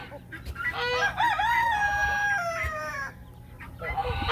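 A rooster crows loudly and clearly in a long drawn-out call, followed by a shorter crow, with faint farmyard noise behind.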